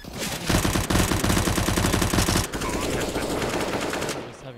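Rapid automatic gunfire from a Counter-Strike match, dense repeated shots loud and close for about two and a half seconds, then a more scattered, slightly lower burst of shooting continuing under game noise.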